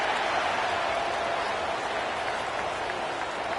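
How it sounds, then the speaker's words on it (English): A roaring stadium crowd in an NCAA Football video game, Georgia at Ole Miss, makes a dense, constant wash of cheering and noise at steady loudness with no clear voices. "listen to this crowd noise. This stadium is vibrating."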